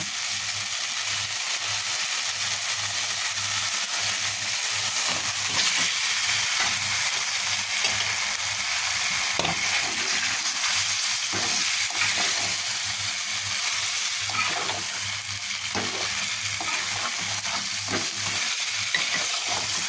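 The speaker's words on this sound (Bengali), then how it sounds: "এখন রান্না করব চিকেন টমেটো সস দিয়ে তাই যে চিকেন কেটে দিয়ে রেখেছি আর এই যে মশলা কষিয়ে নিয়েছি টমেটো সস দিয়ে এখন চিকেনগুলো দিয়ে কষিয়ে নেব" Cut chicken sautés in a pan with a fried spice paste and tomato sauce, sizzling steadily and densely for the whole stretch, with faint stirring scrapes and no voices.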